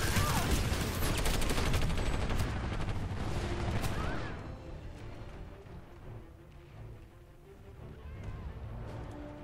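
Shotgun fire in the shooter PlanetSide 2: a loud, dense burst of overlapping blasts and battle noise for about four seconds, then quieter scattered shots and background combat, with no talk.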